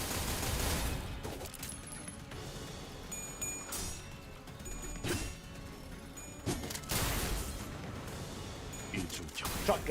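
Heavy shotgun blasts and combat effects in Limbus Company, several loud booming hits with crashing impacts spread across the stretch amid busy game sound.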